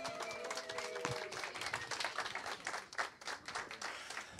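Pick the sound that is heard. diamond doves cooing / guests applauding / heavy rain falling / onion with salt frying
guests applauding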